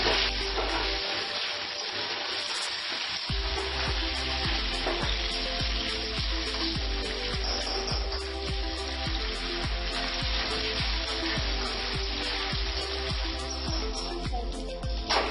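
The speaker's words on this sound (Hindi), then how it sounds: "दो 3 मिनट तक हम इसे कंटिन्यू मिलाएंगे, क्योंकि गरम तेल में तो मसाला जाता है" Spices fry in hot oil for an Indori-style gilki (sponge gourd) sabzi, a continuous crackling sizzle broken by repeated scraping stirs in a rhythmic pattern, close and steady with no talking.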